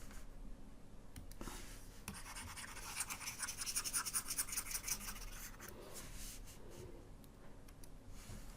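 Pen scratching on paper, soft and close, with irregular strokes and a denser burst of writing in the middle while a teacher works a maths problem.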